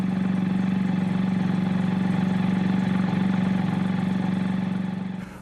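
An NSU Wankel rotary piston engine runs steadily at idle, a smooth, even low hum with a fine rapid pulse, close and constant, then fading slightly at the very end; no talking.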